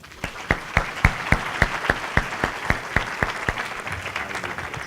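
An audience at a community forum claps for about five seconds in an even, rhythmic burst of sharp hand claps that fades toward the end.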